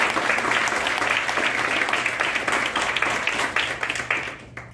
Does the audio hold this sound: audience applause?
yes